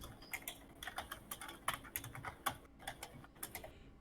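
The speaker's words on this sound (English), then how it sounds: "I like how Jono's slapping away at the keyboard today" Fast typing on a computer keyboard, a rapid, irregular patter of crisp key clicks heard close up and fairly quiet, with no voices over it.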